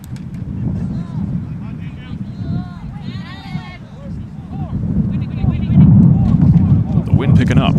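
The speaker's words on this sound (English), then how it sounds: "The wind picking up." Wind gusts at an outdoor high school baseball game, St. John Neumann Celtics at North Broward Eagles: a constant low rumbling buffet against the microphone, swelling louder toward the end, under continuous commentary.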